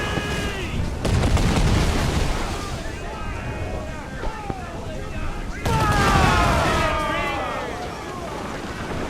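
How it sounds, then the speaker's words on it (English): A ship's cannon broadside goes off in the pirate video game Assassin's Creed 4 Black Flag. Heavy booming volleys come in two bursts over sea and battle noise, while voices shout orders throughout. "Fire! Fire! We'll give a good broadside!"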